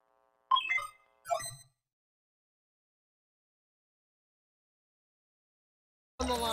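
A telephone ringtone from the video game High On Life sounds in two short tonal bursts, then falls silent for several seconds before another sound cuts in at the end.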